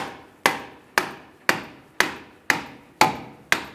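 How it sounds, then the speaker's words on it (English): Rubber mallet strikes on a CV axle of a 2012-2017 Hyundai Accent 1.6L, knocking it loose: eight sharp, evenly spaced blows about half a second apart, close and fairly loud, each decaying quickly, with no talking. "you're gonna use a rubber mallet"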